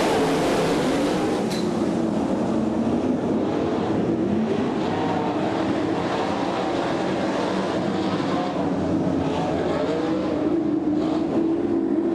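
Dirt-track race cars roar together at the start of a heat race, a loud, continuous wall of engine noise sustained throughout with no pauses.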